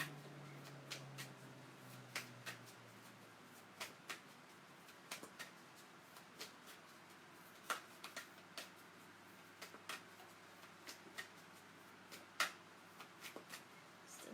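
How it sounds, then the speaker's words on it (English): A deck of tarot cards is shuffled in a quiet room, with light, irregular card snaps and flicks repeating for over ten seconds, faint and close with no talking. "still shuffling."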